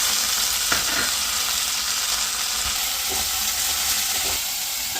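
Mint and coriander leaves frying for mutton biryani make a continuous bright sizzle, with a few faint stirring knocks under the hiss.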